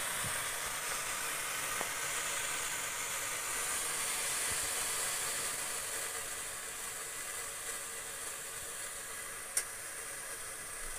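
Steam hisses steadily off water thrown onto hot stones in a clay sauna, a soft, continuous airy rush with a couple of faint ticks and no voices.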